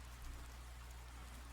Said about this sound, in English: It's begun raining.